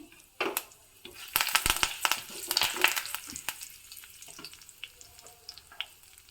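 Curry leaves dropped into hot oil for a tempering with urad dal, asafoetida and turmeric in a traditional Udupi-style dish: a sudden burst of crackling and spitting that fades to quieter intermittent sizzling, close by.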